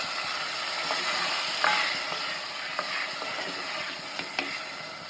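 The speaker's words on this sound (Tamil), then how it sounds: "இந்த டைம் வந்து புளி ஊற்றிடலாம்." Frying onions and curry leaves sizzle steadily in a hot pan for a Tamil-style sardine curry, with scattered clinks and stirring knocks, but no distinct pour of tamarind water stands out.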